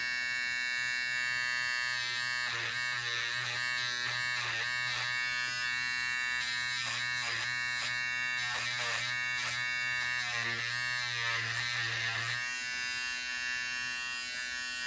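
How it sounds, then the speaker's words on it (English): A stitch remover slicing open fabric stitching makes a continuous loud, close buzz, with repeated rasping bursts as the threads are cut before it trails off near the end. "You just want to get the thread and slice that stitching open."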